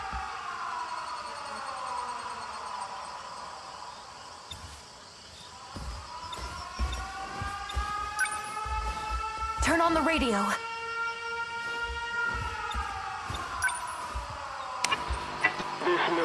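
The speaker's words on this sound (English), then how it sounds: "Air raid alarms have been sounded." Air raid sirens from the video game 13 Sentinels: Aegis Rim wail in long rising and falling tones, layered and sustained across the clip, with a voice speaking briefly over them and a sharp swooping burst midway.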